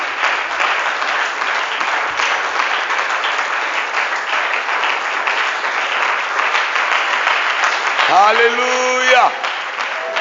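Church congregation clapping and cheering at a worship service, a dense loud wall of applause sustained throughout, with a voice calling out near the end.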